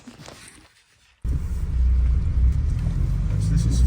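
A 2004 BMW 320d E46 with the M47 diesel engine pulls away in first gear after a clutch and flywheel change, a steady low engine rumble that starts abruptly after a quiet moment and holds loud and close.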